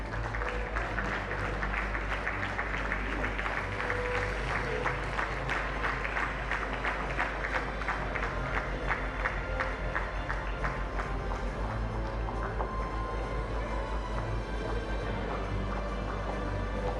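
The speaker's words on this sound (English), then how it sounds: "Can we have a round of applause for Project Pulse being awarded the Interlude Shield?" An audience at an Interact district assembly award ceremony claps steadily for about seventeen seconds, a dense, even wash of many hands at constant loudness with no voices over it.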